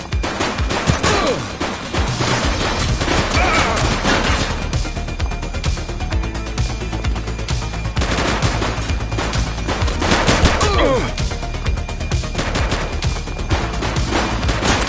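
Heavy gunfire erupts in The Precinct, a police game, as rapid machine-gun bursts and single shots crack loudly and almost without pause throughout, dense and close with only brief dips.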